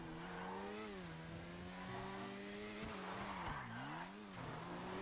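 Nagasaki Stryder motorcycle in GTA 5 riding hard, a loud steady engine drone with rising and falling pitch as it shifts, dipping briefly near the end, alone without talk.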